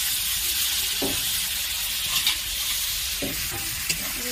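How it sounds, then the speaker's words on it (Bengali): Sattu is stir-fried in spiced oil with a constant close sizzle, broken by a few soft scraping stirs of the spatula against the pan. "ভালো করে কষিয়ে নেব।"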